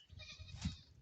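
A goat bleats on a farm, one short, faint call heard close by against quiet background noise.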